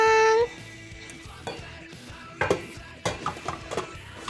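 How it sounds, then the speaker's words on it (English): Shokupan ingredients being whisked in a bowl: soft, irregular scraping and tapping after a short musical chime at the start, fairly close and with no talking. "We'll just whisk it until everything's well combined."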